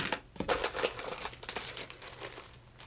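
A plastic bag full of assorted fishing baits, including cream worms and a swim bait, crinkles and rustles close up in quick, irregular bursts for about three seconds, with no talking.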